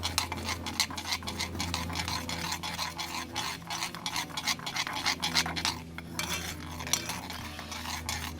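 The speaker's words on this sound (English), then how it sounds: "I do need to give this sauce a stir because that butter has melted" A metal spoon repeatedly scrapes and taps around a pot of peri peri butter sauce on a barbecue grill, a quick, irregular series of close clinks and clatters over a faint background hum, with no voices.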